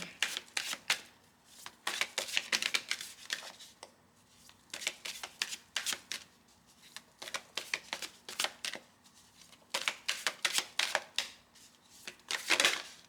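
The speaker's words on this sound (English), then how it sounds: "I wonder how do they shuffle?" Rune cards are shuffled repeatedly in quick riffling bursts, a rapid papery flutter coming in clusters with brief pauses between, close and fairly soft.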